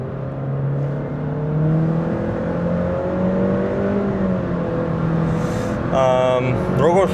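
Honda Civic with a CVT accelerating, a smooth rising engine drone with stepped whining tones, a voice speaking near the end.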